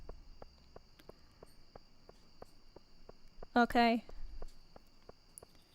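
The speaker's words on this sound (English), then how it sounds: "We get the lovely nighttime ambient noise of crickets." Evenly spaced cricket chirps from the nighttime ambience in Stardew Valley, a soft regular pulse with a faint high hum behind it, and a person briefly speaking partway through.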